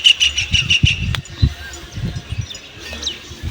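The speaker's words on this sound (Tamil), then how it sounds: "குருவி வந்து கூடு கட்டி முட்டை போட்டுருக்குது." Sparrows chirp in a terrace garden, a run of quick high twittering notes at the start and a few scattered calls later, mixed with nearby handling noises and low thumps.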